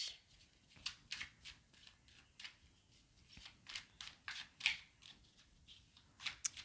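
Rapid, rhythmic papery flicks of tarot cards being shuffled close by, repeated riffles at a steady pace with no voices.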